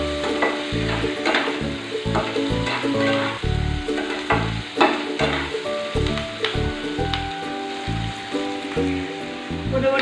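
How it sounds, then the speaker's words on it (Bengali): Potatoes and onions with turmeric sautéed in a pan for a prawn dish, a steady close sizzle with repeated rhythmic spatula scrapes and stirring thuds, no talking. "মোটামুটি আলু পেঁয়াজ একটুখানি হলুদ দিয়ে নাড়াচাড়া করা হয়ে গেছে"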